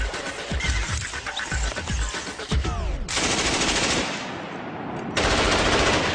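Rapid bursts of machine gun fire from a weapon mounted on a SWORDS Talon robot, loud and close, with sharp repeated reports and a sustained rattling stretch after a brief pause.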